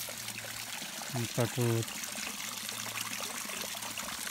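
Spring water trickles from a plastic pipe at a rocky spring, a soft continuous dribble that runs under a man's brief speech.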